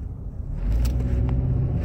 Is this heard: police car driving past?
yes